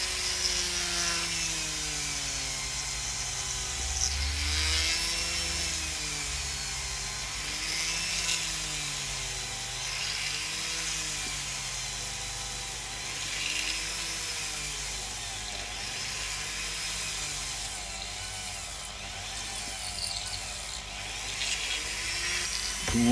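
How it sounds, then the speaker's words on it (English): Small drill boring through a plastic part of a Reaver Titan model, a sustained whirring with repeated rising and falling pitch sweeps as pressure varies, close and steady throughout. "So we've drilled all the way through."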